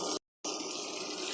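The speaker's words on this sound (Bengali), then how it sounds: "এখন এতে একটু পানি দিয়ে দেব।" Water gushes into a pan of frying red amaranth greens with naga chili, a steady loud pour that breaks off briefly and then resumes, with no talking.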